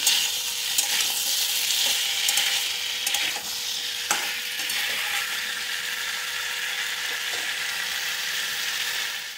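Ginger and spices sauté in a hot pan with a strong, continuous hiss and sizzle, punctuated by sharp scraping and clinking taps from a stirring utensil, and no one speaks.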